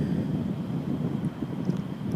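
Wind wake buffeting a motorcycle on the highway, heard as steady, loud low roaring wind noise against the microphone without a break.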